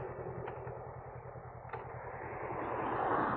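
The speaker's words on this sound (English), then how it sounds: "Too busy watching helicopters." A steady aircraft engine drone with a rhythmic low thumping, growing slightly louder toward the end, like a helicopter passing overhead.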